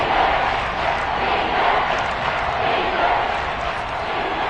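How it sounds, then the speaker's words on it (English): Dense, steady roar of a packed football stadium crowd at a Lions vs Panthers game, building ahead of a big third down, loud and continuous throughout with no distinct voices standing out. "The crowd getting into it as we come up on a big 3rd down."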